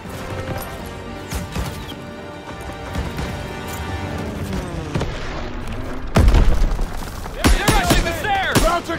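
Call of Duty WWII battle with dense gunfire and explosions: a steady rattle of shots and thuds builds to a loud, booming blast partway through, followed by further close, heavy impacts and crashes.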